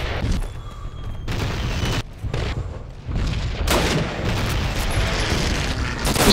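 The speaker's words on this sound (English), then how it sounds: "Just turn the middle of the field into a constant barrage" Artillery shells burst in a constant barrage across a field in Call of Duty: United Offensive, a dense run of loud booms and crackling blasts with short gaps between volleys.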